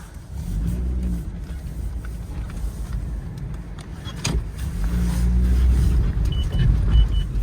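Heard from inside, a vehicle drives along with a steady, loud engine rumble and road noise, rising slightly as it speeds up toward the end.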